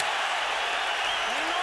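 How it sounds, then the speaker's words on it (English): Crowd at a boxing arena during Canelo Alvarez vs Matthew Hatton, a steady roar of cheering and applause filling the clip, with a commentator's voice over it. "Alvarez's fans want to cheer for him so bad."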